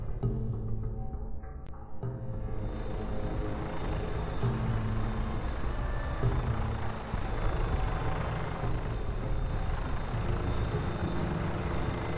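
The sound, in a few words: Vertibird aircraft in flight, from the video game Fallout 4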